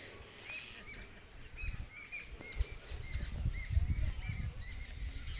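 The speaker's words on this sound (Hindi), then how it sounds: "तो यहाँ पे आप फिर से सुन सकते हैं चिड़ियों के चहचहाने की आवाज़।" Birds chirp and tweet in short repeated calls at a moderate distance in an Indian village, over a low rumbling outdoor background.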